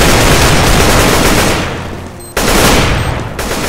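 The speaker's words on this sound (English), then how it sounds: "Tech 9 and AK to the rescue." Loud, close Tec-9 and AK rifle fire in Counter-Strike GO on the Aztec map, with dense rapid bursts that pause briefly before the shooting resumes.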